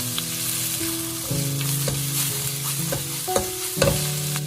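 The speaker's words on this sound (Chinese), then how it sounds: "把木耳加进来，开大火快速的翻炒均匀" Luffa and wood ear mushroom stir-fried over high heat in a wok, with a steady hiss of frying under repeated scraping strokes of the spatula and a few sharper knocks against the pan.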